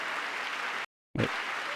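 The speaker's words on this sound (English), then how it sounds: "She's doing a bit of clapping" Many hands clap in a dense, continuous burst of applause that cuts out briefly to silence and then resumes just as strongly.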